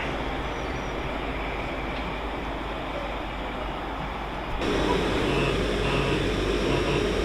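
A train pulls away from Doncaster station on the East Coast Main Line, a steady broadband rumble and hiss that swells noticeably louder partway through as it gets under way, with no talking.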